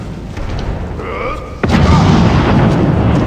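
Fire wizard's explosive spell in Skyrim, a sudden loud boom about halfway through followed by a rumbling fiery wash, over quieter battle noise beforehand, with no clear talking.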